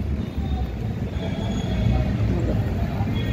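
Pune metro train running, a steady low rumble of wheels and carriage noise with a faint high squeal, continuous and close throughout.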